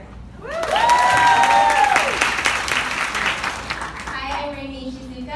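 An audience claps loudly and cheers for a wellness and marketing panel, sustained applause with whoops and raised voices over it, tapering as talking takes over near the end.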